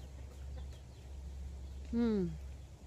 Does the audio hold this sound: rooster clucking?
yes